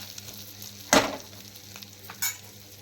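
Sesame seeds, green and dried chilies, garlic, coriander and curry leaves fry in hot oil as a tempering, a faint low sizzle broken by two sharp stirring scrapes.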